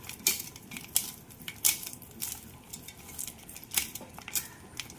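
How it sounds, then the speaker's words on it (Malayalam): Kerala-style chicken biryani ingredients being mixed in a pot with biryani masala, producing sharp, irregular metallic clinks and scrapes of a utensil against the pot over a quiet background. "ഇനി ഇത് എല്ലാം കൂടി ഒന്ന് മിക്സ് ചെയ്യുക."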